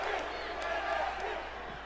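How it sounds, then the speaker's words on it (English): A virtual arena crowd in the WWE 2K18 wrestling game roars steadily at a low, constant level throughout, during a women's NXT match. "The crowd into this matchup now."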